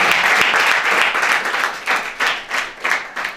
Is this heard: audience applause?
yes